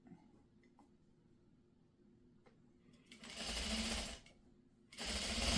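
A sewing machine stitches pre-cut triangle pieces for a scrappy sawtooth star quilt, quiet handling at first, then two close bursts of fast stitching.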